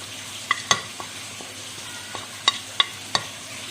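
Mustard seeds sizzling in hot oil, a soft steady frying hiss with several sharp popping clicks scattered through it, close and without talk.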